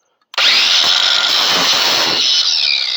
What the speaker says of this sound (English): I've got my angle grinder with a battery on it